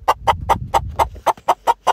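A chicken clucking sound effect in a Persian children's story, about nine loud, evenly spaced clucks close up with no talk over them.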